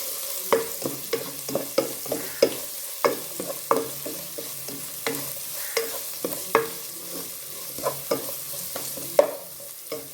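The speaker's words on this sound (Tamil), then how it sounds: "அதோட நம்ம இப்போ வச்சுருந்த உள்ளியையும் இதோட சேர்த்துக்கொள்ளுவோம். சேர்த்துட்டு நல்லா தாளிப்போம்." Garlic sautéing in hot oil for a pipe fish dish, a steady sizzle broken by regular scraping strokes of a spoon stirring the pan, close and moderately loud with no talk.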